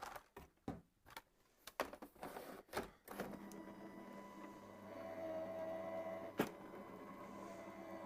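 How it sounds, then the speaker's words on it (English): A die cutting machine feeds glittery card through its rollers, a steady low motor hum with faint whirring that follows several sharp handling clicks and taps close by, fairly quiet overall. "we'll run this through our die cutting machine"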